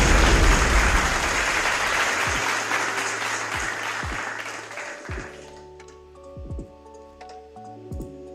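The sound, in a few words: applause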